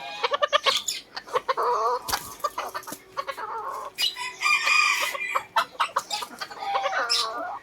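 White bantam chickens cluck busily and close by, with a rooster crowing through the middle; a voice speaks briefly among the birds.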